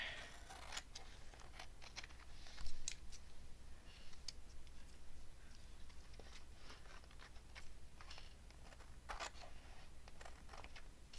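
Quiet, scattered clicks and small paper rustles while trimming paper for a gluebook page, close and soft, with irregular snips and taps.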